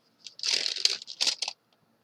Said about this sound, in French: il va vous falloir couper une feuille de papier sulfurisé